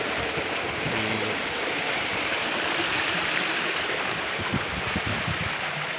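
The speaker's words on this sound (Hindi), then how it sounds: "खाले दे विच अज पानी घिन गए से माशाअल्लाह।" Water from a running tubewell pours into a newly dug irrigation channel, a steady, loud rushing flow that continues without break and with no voices.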